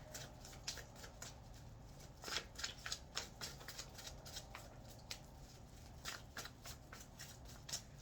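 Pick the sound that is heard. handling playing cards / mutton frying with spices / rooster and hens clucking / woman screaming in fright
handling playing cards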